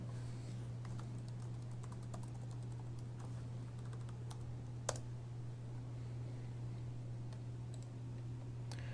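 Quiet computer keyboard typing while logging in to a caseworker web application: light, uneven clicks and key taps over a steady low electrical hum, with one sharper keystroke partway through and no voices.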